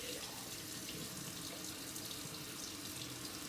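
A steady stream of tap water runs into a sink while a straight razor is rinsed blindfolded, a continuous close, even splashing rush throughout with no voices.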